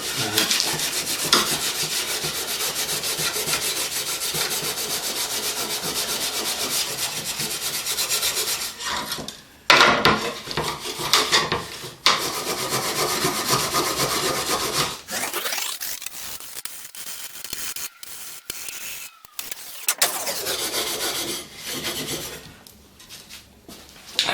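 Bushcraft knife blade being scrubbed clean of carbon crud, a steady rasping rub in long continuous strokes, close and loud, with brief pauses between bouts.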